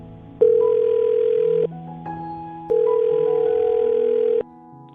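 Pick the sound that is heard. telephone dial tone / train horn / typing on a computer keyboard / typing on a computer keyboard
telephone dial tone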